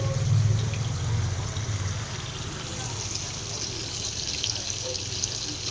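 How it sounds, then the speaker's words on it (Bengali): Water runs steadily from a tap while hands are washed in a kitchen, a continuous moderate splash and trickle heard close by without any talk. "ভালো করে হাত থেকে ধুয়ে নিলাম।"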